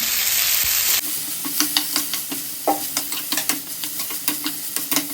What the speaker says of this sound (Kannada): ಇದಕ್ಕೆ ಸ್ವಲ್ಪ ಆಯಿಲ್ ಹಾಕ್ತೀನಿ, ಆದರೆ ಜಲ್ದಿ ಫ್ರೈ ಆಗ್ತದೆ